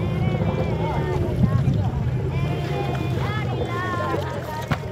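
A boat travels across the water at a village with a steady engine hum and wind buffeting, while people chatter throughout.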